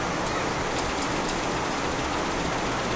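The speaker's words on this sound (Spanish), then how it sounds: "No, pues sí se vino bien fuerte la lluvia." Heavy rain pours down in a steady, dense hiss that fills the whole stretch without a break, close and fairly loud, with no voices over it.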